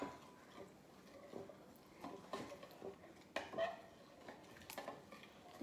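Pudding mix and fat-free milk are stirred in a bowl, giving faint, irregular clinks and scraping taps of a utensil against the bowl, quiet and close with no talking.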